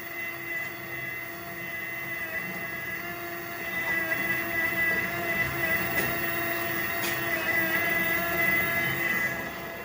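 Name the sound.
machine's lower electric motor running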